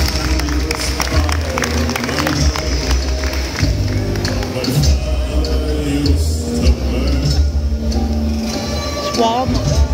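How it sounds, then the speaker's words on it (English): An audience at a Blackpool tattoo convention gives a round of applause, a dense, sustained wash of clapping and crowd noise that runs throughout, with voices and amplified sound over it. "Let's give a round of applause."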